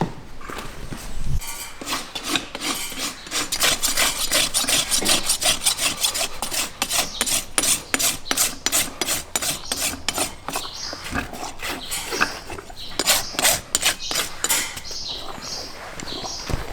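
A farrier's rasp dresses a horse's hoof wall up to a bevel, a loud close series of rhythmic scraping strokes that runs steadily with brief gaps.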